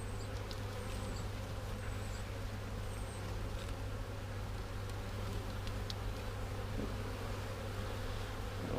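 Honeybees buzz steadily around an open hive being readied for winter, a dense, continuous hum close by with a few individual bees droning past, no voices.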